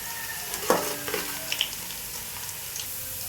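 Ingredients for beef biryani sizzle steadily in a pan as a spoon stirs them, with soft scraping clinks over the continuous close frying hiss.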